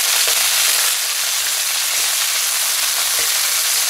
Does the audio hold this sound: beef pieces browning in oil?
yes